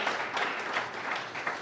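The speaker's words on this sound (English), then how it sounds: "Massive round of applause to Nedbank." Applause from an audience at a Kasi business workshop in Katlehong, honouring a sponsor; a steady, moderately distant wash of many hands clapping for under two seconds, with no talking.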